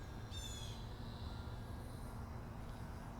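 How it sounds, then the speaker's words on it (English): Faint, distant bird calls in a park, a few harsh caws and squawks, over a steady outdoor hum with no talking. "you hear the birds. I can't see them, but I hear them."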